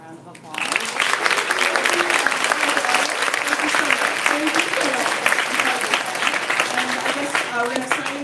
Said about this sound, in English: can we give our author a round of applause?